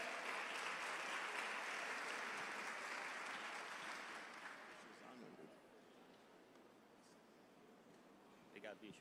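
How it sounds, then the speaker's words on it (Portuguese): Church congregation applauding for the Lord, a broad sustained wash of clapping that fades over several seconds into quieter room noise, with a few faint sounds near the end. "Você pode dar uma forte salva de palmas ao Senhor?"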